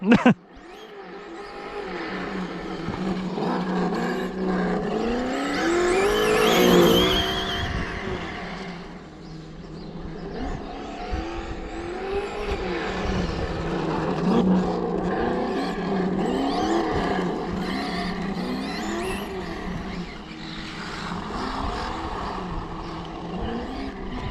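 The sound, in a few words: RC car with engine sound generator, throttle blips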